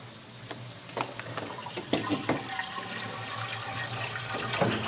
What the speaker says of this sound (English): I'm going to pour that in the machine.